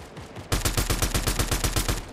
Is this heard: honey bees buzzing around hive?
no